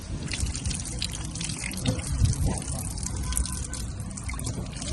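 Water running and splashing steadily while a mango is washed on a farm, a continuous close trickle with small drips throughout.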